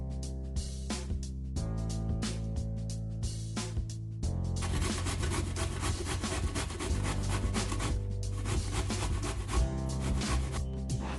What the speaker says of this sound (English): I'm gonna go ahead and grate my zucchini